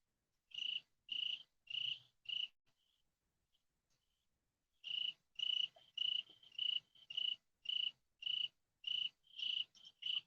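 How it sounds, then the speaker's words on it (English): Crickets chirp at night near a fire pit in evenly spaced, close, clear bursts, a short pause breaking the sequence before the steady pulsing resumes. "All those crickets are like in one corner right over there."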